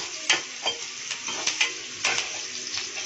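Curry leaves being sautéed in a pan for a tamarind okra curry, with frequent light stirring scrapes and soft clinks over a continuous sizzle, close and moderately loud.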